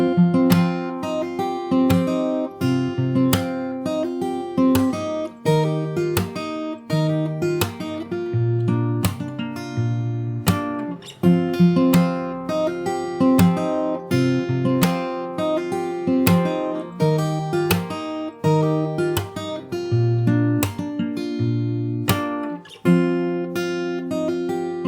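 Fingerstyle acoustic guitar plays an outro, plucked notes and chords ringing steadily and up close for the full stretch with no talking.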